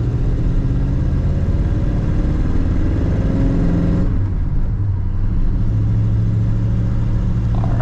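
A 1950 Ford Coupe's engine drones loudly from inside the car on the road, its pitch rising under acceleration and then dropping midway as it shifts before pulling again.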